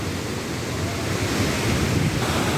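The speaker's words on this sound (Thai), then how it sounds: "น้ำไหลเชี่ยวมากเลยทุกคน" Loud, constant roar of a fast-rushing large river heading toward a big European waterfall fills the scene, dense and unbroken, with no voices.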